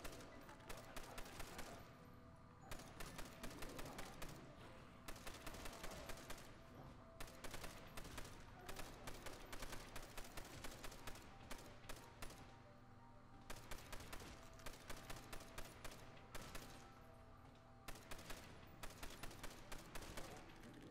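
Steady bursts of Browning machine gun fire in Call of Duty Black Ops 4 Zombies on the Nacht Der Untoten map, rapid rattling volleys broken by short pauses across the whole stretch, fairly quiet in the mix.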